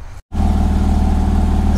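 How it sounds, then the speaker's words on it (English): Porsche Boxster 987 engine running loud and close after a brief gap of silence, a steady idle with a fluttering low hum and no talk. "So I started the car, so sorry for the noise"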